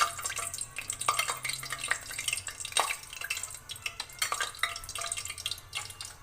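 Paneer pakoras, cheese cubes coated in batter, frying in hot oil with a soft, steady crackle and scattered light pops, fairly quiet throughout.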